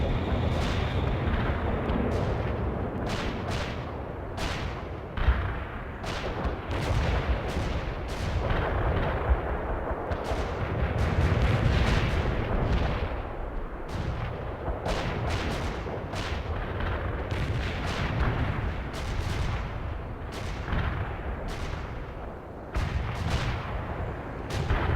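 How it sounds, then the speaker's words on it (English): Artillery barrage in the video game World in Conflict: a dense, continuous rumble of booming shell impacts and blasts rolling one after another, loud and heavy throughout with sharper cracks scattered on top. "Enemy artillery strike on the way."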